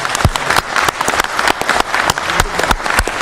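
Audience at a full council meeting applauding the mayor, loud dense clapping from many hands in a hall, sustained throughout with a few sharper nearby claps and no voices on top.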